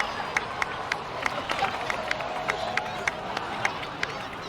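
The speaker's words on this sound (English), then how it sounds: "please give another round of applause for them" A crowd applauding and cheering in the Genshin Impact video game, a steady patter of claps with sharp individual hand strikes standing out over a dense, even wash of sound.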